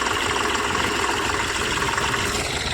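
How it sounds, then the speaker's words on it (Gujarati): A tractor engine runs steadily as it pulls a plough across a farm field, a close, even, throbbing rumble with no talk over it. "હવે ટ્રેક્ટર હાલી રહી છે"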